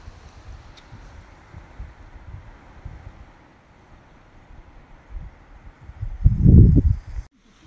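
Strong wind blows through a forest, a low rushing rumble with gusts that swell to a loud, close buffet near the end before dropping away.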